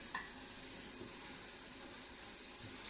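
Faint, steady stirring of a sugar-water solution in a pot on a stove, over a quiet hiss of heat, with a soft clink near the start.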